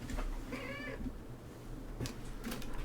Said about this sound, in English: I've got a cat trying to be very distracting.